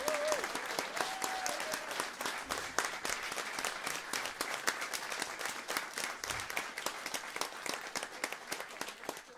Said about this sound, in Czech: To si zaslouží potlesk.